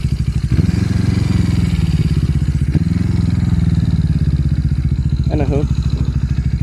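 A Yamaha XS400 motorcycle engine runs steadily up close, its low throbbing idle continuous throughout while someone talks over it.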